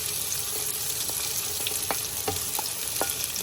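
Onions and whole spices sizzle and fry steadily in hot oil for a raw jackfruit biryani, with a few sharp stir clicks and scrapes from a spoon in the pan near the front.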